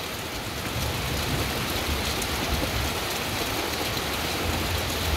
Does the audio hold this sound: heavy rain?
yes